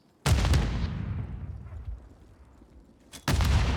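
Video game grenade blast followed by gunfire: a sharp close explosion with a long rumbling decay, then another loud burst of shots near the end, no talk over it.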